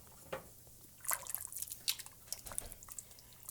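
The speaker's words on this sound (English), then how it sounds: "I'm going to sprinkle it in the bone broth, stir it up." Pink Himalayan salt being stirred into a pot of bone broth, heard as faint, scattered liquid swishes and small drips at close range in an otherwise quiet kitchen.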